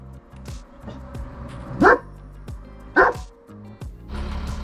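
A dog named Canyon barks twice, with sharp, fairly close barks standing out from quiet ambient hum outside a laundromat near elk in Colorado.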